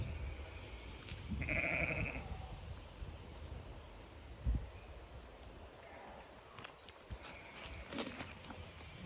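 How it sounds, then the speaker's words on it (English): Small sheep on a farm in Den Haag bleat a few times at moderate distance, with faint rustling and outdoor background noise and no talk. "These are all sheep."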